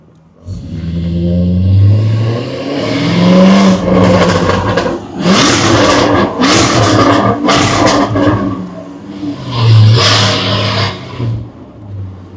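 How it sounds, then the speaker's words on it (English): A Jaguar F-Type engine revs hard in neutral, with blocked catalysts suspected: a loud, close series of rising, roaring bursts that drop back between blips and end in a last rev with a fade. "Then whack it in neutral and rev it up."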